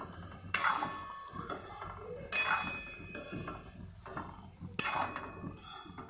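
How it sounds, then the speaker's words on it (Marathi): Soya chunks roasting in a little oil in a pan over low gas, with a spatula scraping and clinking against the pan in three distinct bursts over a soft, steady background hiss. "यामध्ये हे आपण सोयावडी टाकून घेऊ छान असं ह्याला कमी गॅसवर असं आपण याला छान भाजून घेऊ"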